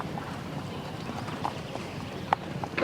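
Hooves thud in a light clip-clop rhythm as a show jumper canters toward a treble combination at an event rider masters competition, soft and fairly distant under wind and arena ambience.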